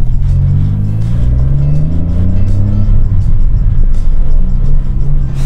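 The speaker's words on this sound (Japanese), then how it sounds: "この無限のマフラーすごいですね。" A Honda N-ONE RS with a Mugen muffler accelerates hard, its loud, racy exhaust climbing in pitch through the gears with a deep rumble underneath, close and alone.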